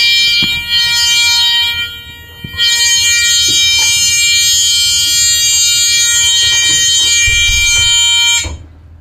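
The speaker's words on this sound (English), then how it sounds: "And you will hear a buzzer sound." A school bus buzzer sounding during a Connecticut pre-trip inspection: a loud, steady electronic drone that drops briefly near the start, then holds for several seconds before cutting off, with faint knocks beneath it.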